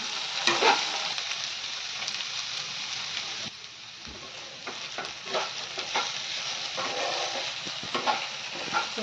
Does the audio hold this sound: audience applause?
no